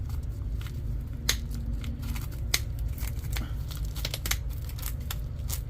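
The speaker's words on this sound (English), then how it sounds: "So I cut all the way around the bottom." Garden shears snip around the base of a pot holding a small rare fruit tree planted in rocks, giving a string of sharp, close clicks and crunches over a steady low rumble.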